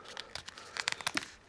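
Plastic back cover of an HTC Windows Phone 8S being pried and popped open, a quick series of close, crisp crackling clicks and snaps over about a second and a half.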